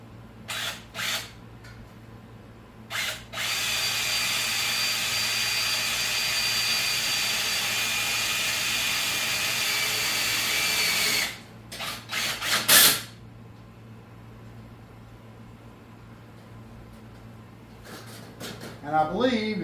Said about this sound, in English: these are a self-tapping screw, so they make their own hole